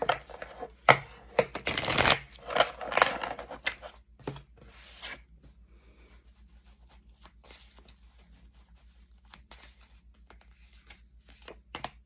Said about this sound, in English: Cards sliding all over.